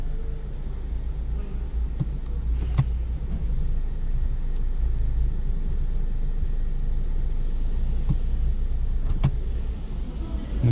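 A 2013–2020 Ford Fusion with a 6F35 automatic transmission idling steadily while shifted through each gear, a constant low engine rumble from inside the car with occasional faint clicks from the shifter.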